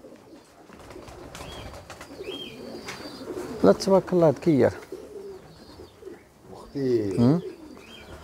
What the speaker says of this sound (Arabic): حمام ديال المسافة